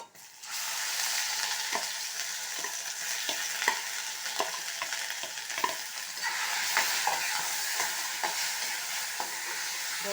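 Ivy gourd paste goes into a hot pan and is stirred, giving a steady broadband sizzle with repeated scraping clicks of the spoon against the pan, close and continuous, with no talking.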